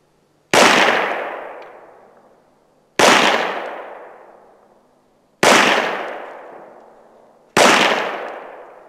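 Four sharp handgun shots, fired from the shooter's position at a target, ring out at spaced, deliberate intervals, each a loud crack with a long decaying echo and silence between.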